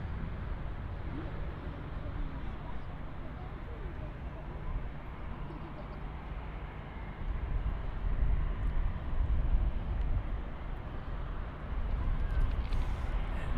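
A CRJ jet taxiing at Munich Airport, a steady low engine rumble and broadband whine that swells louder in the second half, close and continuous with no talk.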